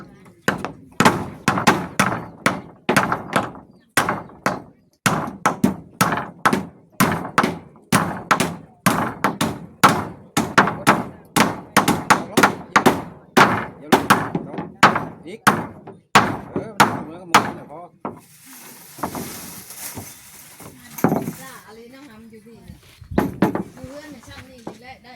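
Hammering along a length of wood, a rapid run of sharp, loud thunks in steady rhythm lasting most of the time, then a brief hissy noise and a few scattered knocks near the end.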